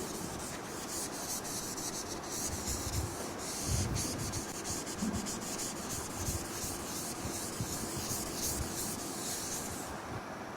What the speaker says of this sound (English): rub off, I think I can rub off this figure.